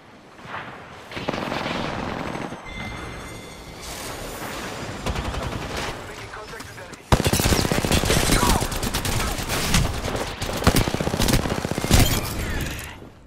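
Heavy video game gunfire with rapid machine-gun bursts and dense fusillades striking the player's position, loud and continuous, jumping sharply in intensity midway.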